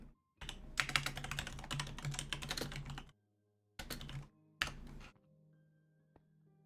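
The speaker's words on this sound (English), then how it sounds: "pretend you can't hear my keyboard clicking" Someone types fast on a computer keyboard while playing Minecraft, giving a steady burst of clicks for about three seconds, then two short flurries, then quiet.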